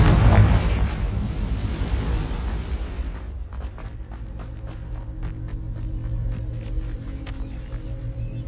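A Confringo spell in Hogwarts Legacy bursts with a loud, booming blast. Its rumble and hum trail off over several seconds, with scattered small pops afterward.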